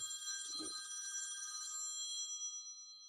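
A telephone rings in a steady, bright bell-like tone that holds for about three seconds at moderate volume, with a brief low thump early on and no talking.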